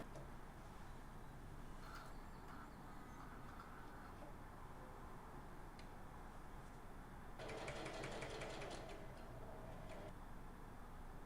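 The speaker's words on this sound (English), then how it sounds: "Sew around the 3 sides of the line at a distance of about 1/8 of an inch." A sewing machine runs steadily while stitching a facing onto a shirt, with a soft continuous whir and a louder, faster burst of stitching toward the end; no one talks.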